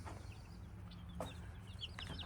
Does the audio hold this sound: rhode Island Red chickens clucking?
yes